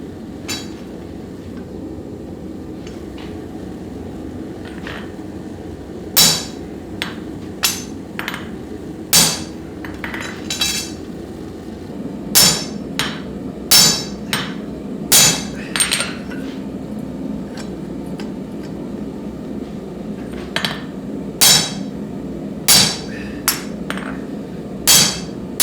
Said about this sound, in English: I chose to start by using the spring fullers to make an initial set down